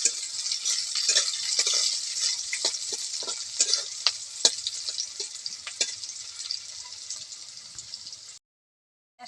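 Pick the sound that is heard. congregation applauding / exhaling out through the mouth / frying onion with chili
frying onion with chili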